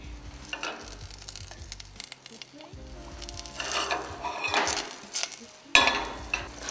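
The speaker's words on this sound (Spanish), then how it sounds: "vamos a poner a calentar la mantequilla" Butter heating in a pan for risotto sizzles and crackles steadily, with occasional clinks of a utensil against the pan and some background voice.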